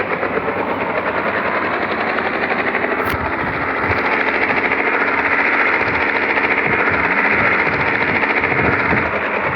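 A helicopter in the mobile game Indian Bike 3D gives a loud, steady, rumbling engine drone with rapid rotor chop, close and continuous, with no voice over it.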